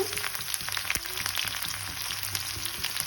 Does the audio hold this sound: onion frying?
yes